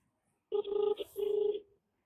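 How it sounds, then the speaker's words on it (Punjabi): A telephone rings twice in quick succession, a clear electronic tone close by, then silence. "ਚੱਕ ਲੈ ਵੀਰੇ ਫੋਨ"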